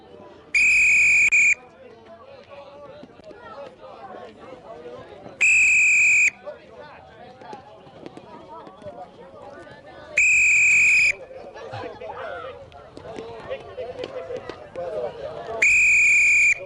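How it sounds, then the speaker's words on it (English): A coach's whistle at a hurling workshop sounds four times, each a loud sustained blast of about a second, separated by stretches of children's chatter and shouting in the background. "Come on, the whistle went."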